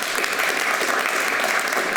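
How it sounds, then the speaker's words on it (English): Warm applause from an audience at a talk on the US election and American foreign policy, a brief, steady burst of many hands clapping for an arriving guest, with no speech over it. "Please give a round of applause for Ivo."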